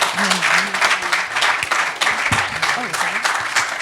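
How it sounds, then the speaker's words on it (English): Sustained applause from a conference audience for the event's speakers, dense clapping held steady while a voice speaks over it. "let's give one more round of applause for our incredible DEN speakers"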